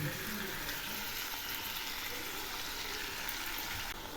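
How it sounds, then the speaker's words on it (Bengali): Ground spice paste sizzles loudly in hot oil with fried jackfruit and potato pieces, a dense continuous hiss and crackle heard close up. "এবার কাজু বাদাম বাটা বাদে সব রকম মশলা বাটাগুলো দিয়ে দিলাম"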